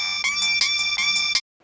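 An electronic phone ringtone plays a quick, bright repeating melody of high tones, then cuts off abruptly into silence.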